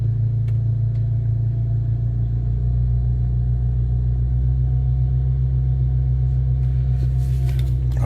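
A BMW 335i with the N54 engine idles steadily, a low, even rumble that holds close and constant, with a few faint clicks and a brief hiss near the end.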